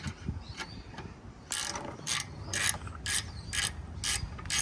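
A spanner ratchets as a Pajero brake caliper bolt is tightened: repeated bursts of rapid metallic clicking in a steady rhythm, close up and alone.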